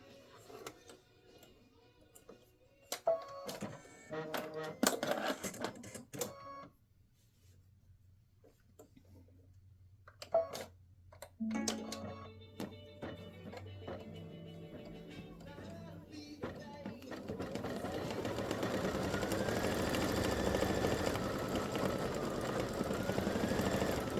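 A home embroidery machine stitches text onto an in-the-hoop Halloween pumpkin face banner, with quiet bursts of rapid mechanical needle clatter separated by pauses, then a steadier whirring hum toward the end.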